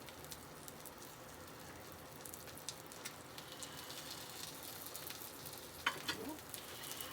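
Smash burger patties sizzle on a hot griddle with butter, a continuous soft frying hiss and crackle with a few spatula scrapes and taps toward the end, fairly quiet and close with no talking.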